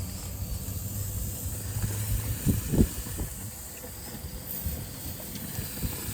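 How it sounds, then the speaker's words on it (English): Steady sizzling hiss of food frying on an outdoor gas cooker, with low wind rumble and buffeting gusts against the microphone. "Hear it sizzling."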